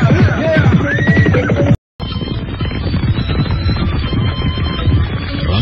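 A horse whinnies in an audio-drama scene about riding back to Pasuruan, a loud, close, quavering neigh, then a brief gap and a dense rumble like hooves and movement.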